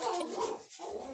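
Dogs whimper and whine in the background, a steady plaintive cry that dips briefly into near-silence before picking up again.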